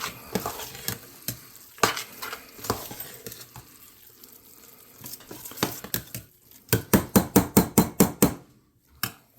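Sautéed cabbage and onions for Irish colcannon are mixed around in a pan, with irregular scraping and clanking. The stirring ends in a quick run of sharp, even knocks before falling quiet.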